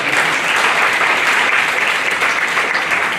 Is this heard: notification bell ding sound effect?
no